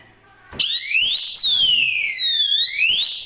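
A power failure alarm on a 3-phase chicken house control panel suddenly starts, a loud, rising and falling siren-like wail sweeping up and down continuously, close by.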